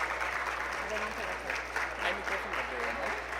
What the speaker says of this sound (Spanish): Por favor, démosle un fuerte aplauso.